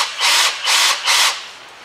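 A drill bores a hole sized for an M5 tap during wheel bearing work on a 2005 Land Rover Freelander, in three loud, sustained bursts separated by short pauses, each grinding through the metal.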